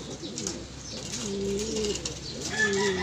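Soft, repeated cooing of pigeons inside a racing-pigeon loft, low throaty coos rising and falling close by with faint rustling in the background.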